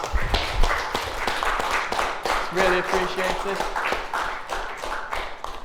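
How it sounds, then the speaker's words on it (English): An audience claps at the close of a music tech masterclass, a loose, moderately loud spatter of hands, while a speaker's voice talks briefly over it. "Should we give them one more round of applause?"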